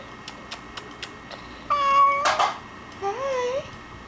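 Frisky, a pet cat, gives a few close, clear meows, a long drawn-out call followed by a shorter rising one, after several faint clicks in an otherwise quiet room.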